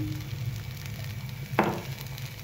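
Fasting dosa batter sizzles softly in a pan, with a sharper hiss as oil is added on top partway through, then the faint frying continues.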